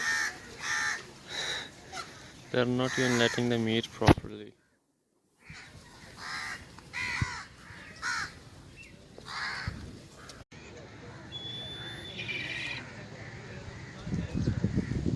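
Crows caw repeatedly, harsh and fairly close, at Islamabad Zoo while a person talks over them and other birds call in the background.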